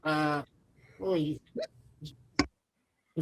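Hiccups during a tabletop horror game session, a few short hiccup-like bursts among voiced sounds, likely a person imitating hiccups with the voice, close and fairly quiet.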